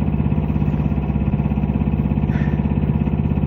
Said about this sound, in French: nous fonctionnons au moteur, vous devez l'entendre